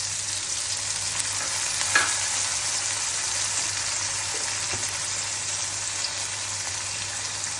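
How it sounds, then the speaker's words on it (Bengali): Ginger paste and spices fry in a pan, making a loud, constant sizzle with a low steady hum underneath and a couple of soft stirring knocks. "আমি সব মশলা দিয়েছি, কষাচ্ছি"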